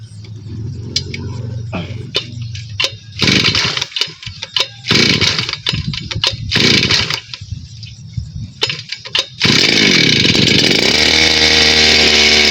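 A roadside grass cutter starts up after stretches of intermittent mechanical noise, then runs steadily and loudly with a high, buzzing engine whine.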